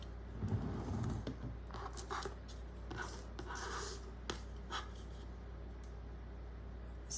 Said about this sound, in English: align it with the paper, and trim off the excess